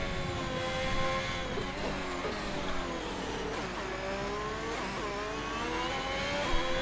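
An F1 car in the video game F1 2021 runs at full throttle down the straight toward Tarzan, a continuous high-pitched engine whine that climbs and drops through gear shifts, with other cars faintly audible around it, with no speech.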